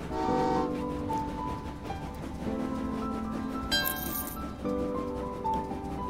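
A train in the railway puzzle video game Train Valley 2 gives short horn toots over steady tonal game music, which plays clearly throughout with no talking.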